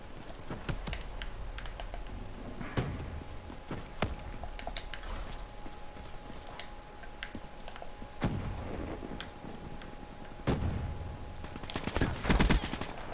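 Bursts of VMP submachine gun fire in Call of Duty: Black Ops 3 multiplayer domination, scattered short volleys and single cracks across the clip, with a denser, louder stretch of rapid shots near the end.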